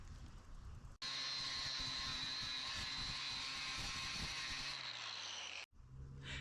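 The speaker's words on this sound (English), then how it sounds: "take your grinder, and we're gonna clean up some of the dross that's on here" An angle grinder cleans dross off freshly cut metal, a steady high whine running about five seconds before cutting off abruptly, with quieter background on either side.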